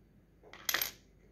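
Old US one-cent coins, corroded from being buried in soil, clink together in a single short, bright metallic jingle against near silence.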